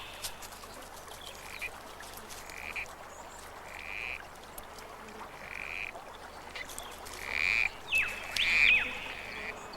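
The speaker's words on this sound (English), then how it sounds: "A male corroboree frog is calling on females" Male corroboree frog calling at night in the Australian high country, giving short repeated calls over a dense, steady chorus of insects and frogs, growing louder near the end.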